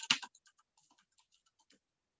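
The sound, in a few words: typing on a computer keyboard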